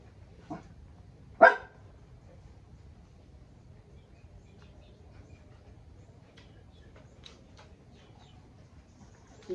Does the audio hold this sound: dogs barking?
yes